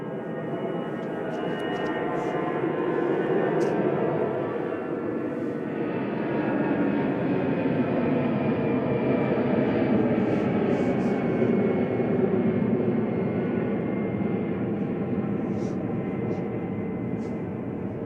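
An EasyJet Airbus A320 on its takeoff roll at Manchester Airport bound for Belfast, a sustained, rising jet-engine rush with a whining tone, moderately loud and steady throughout.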